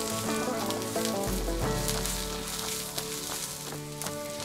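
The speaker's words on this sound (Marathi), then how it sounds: "आता हे सगळं आपण छान असं परतून घेऊया।" Whole spices and fennel seeds sauté in a pan over medium-low flame for stuffed brinjal, a steady sizzle running under loud background music throughout, with no talking.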